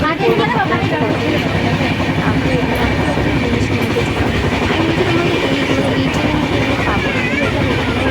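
Inside a moving train carriage, a loud, constant rumble and rattle of wheels on track continues throughout, with faint voices blending into the background.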